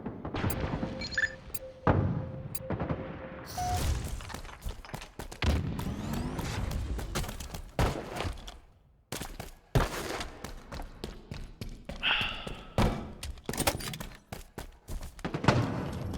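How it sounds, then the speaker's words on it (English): Grenade blasts and gunfire in Halo online matchmaking: a run of loud, sharp booms and bursts, close and punchy, breaking through the ongoing game sounds. "Yeah, I get lucky with these nades somehow."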